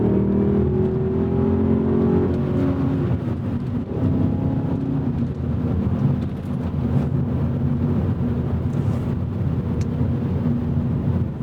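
A 2002 BMW M5 E39 engine drones loudly from inside the car while driving, a steady low rumble with rising and falling revs as the traction control cuts in.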